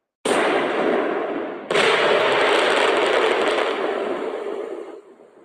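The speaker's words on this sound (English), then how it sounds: "I didn't do the sound effect of fireworks" Dense crackling fireworks bursts in two loud waves, a continuous rapid popping that cuts off and fades out near the end.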